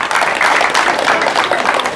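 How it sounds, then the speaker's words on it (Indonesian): Loud, dense applause from a gathered audience, steady and continuous clapping close by for a couple of seconds with no talk over it. "Kita tepuk tangan dulu untuk Pak David dulu."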